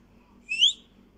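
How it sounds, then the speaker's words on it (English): A single short, high whistle note rises and fades in a video game, alone over a quiet low hum. "Keep pressing the whistle"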